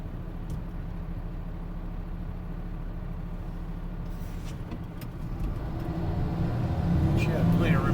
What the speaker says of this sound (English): We got a car coming up, so I'm stopping.